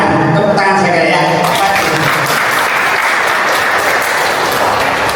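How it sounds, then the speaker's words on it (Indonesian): Loud, dense applause from an audience at a school gathering, sustained and steady throughout with a voice speaking over the start before the clapping fills everything. "Tepuk tangan saya ya."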